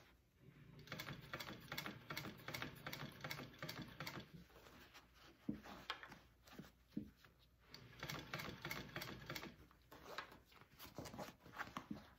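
A home sewing machine stitches a fabric sling bag in quick rhythmic bursts, rapid mechanical clatter that starts and stops several times with short pauses, close and fairly quiet, with no talking.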